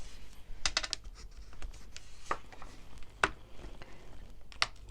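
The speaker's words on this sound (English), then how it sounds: "I'm going to pop the card inside" A card slid into a large Misty stamping tool: close, quiet rustles, light taps and scratchy clicks in an irregular patter over soft background hiss, no talking.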